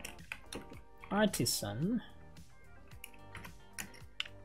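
Keys clack on a computer keyboard while entering a PHP Laravel command, scattered soft taps beneath a man's spoken instructions.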